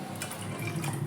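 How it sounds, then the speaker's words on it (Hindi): Water runs from a kitchen tap into a pot for cooking dal fry, a short, close, steady gushing splash with no talk. "एक हाथ में फ़ोन पकड़ी और उसी हाथ से मैं ये नल ऊपर कर रही हूँ"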